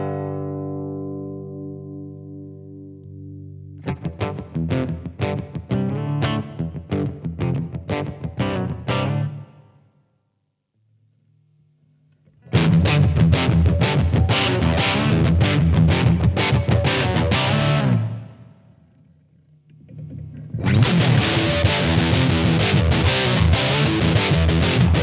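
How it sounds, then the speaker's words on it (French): An electric guitar runs through a black Fender Hammertone Metal distortion pedal, playing three loud passages of fast, choppy distorted chords separated by brief pauses, after a short sustained tone at the start. "La pédale noire, c'est la spéciale métal avec 4 réglages comme sa petite sœur en distorsion"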